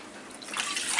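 Red antifreeze coolant leaked from a sailboat's freshwater engine cooling system, trickling and dripping as it is poured; a soft, close liquid dribble that grows slightly louder toward the end.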